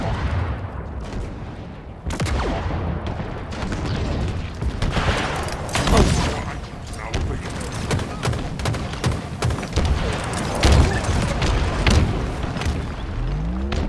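Dense Halo Infinite capture-the-flag combat, with repeated grenade blasts and thuds mixed into steady gunfire that runs almost the whole time.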